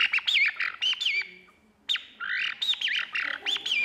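A person imitates a blackbird's call with a string of shrill, warbling whistles and squawks in two quick bursts separated by a short pause, close and clear with no other sounds.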